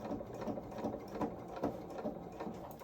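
Sewing machine top stitching the collar of a small doll's mechanic coverall, a quiet, close, rhythmic whirring with regular pulsing stitch beats that runs steadily throughout and has no talking over it.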